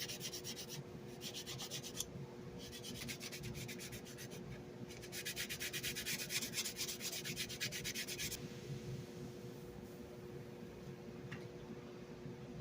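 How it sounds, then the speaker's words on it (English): Steady hand sanding of a scale model starship, a soft scratchy rubbing that comes in repeated strokes, close up and fairly quiet over a faint background hum. "I'm just going to give it a quick sanding over here."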